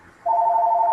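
A telephone starts ringing with a steady, high electronic tone that begins abruptly and holds at close range.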